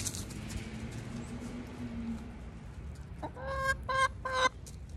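Chickens give a quick run of three or four loud, close clucks toward the end after a stretch of quiet outdoor background hum.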